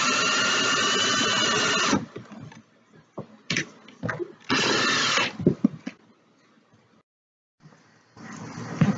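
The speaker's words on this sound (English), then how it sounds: "I'm just adding my screws into the leg." A power drill drives screws into a wooden bench leg in loud, close bursts of whirring motor with pauses between them. Short clunks and handling noises fill the gaps.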